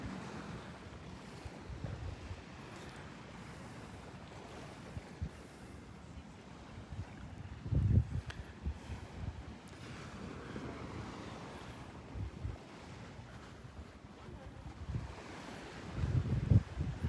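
Little puff of breeze at a beach with swaying sea oats, soft wind gusts rising around the middle and end over a low steady wash of surf, fairly faint.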